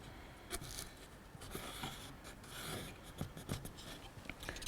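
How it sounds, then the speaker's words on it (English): Washi tape laid down and smoothed along the inside edge of a tray, heard as close, soft rubbing and scraping strokes in short bursts, with no talk. "I'm just going to lay it down and line it up with the inside edge of the tray."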